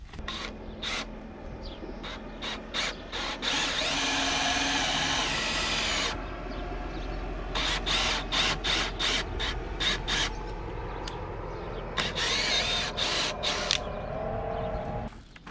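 Power drill boring an 8 mm pilot hole into oak timber for roof purlins and rafters, a loud sustained whine in long bursts broken by short rhythmic pulses, with no talking.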